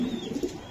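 A purebred racing pigeon coos close up, a soft low rolling murmur that runs continuously through the short moment with slight pulses.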